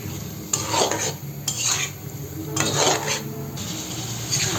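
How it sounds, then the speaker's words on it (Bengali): A spoon scrapes and stirs fish and potato curry sautéing in a pot, in a few loud, rhythmic strokes over a steady background hiss, with no talking. "নেড়ে ছেড়ে ভালোভাবে কষিয়ে নিচ্ছি।"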